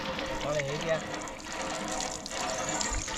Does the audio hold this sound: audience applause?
no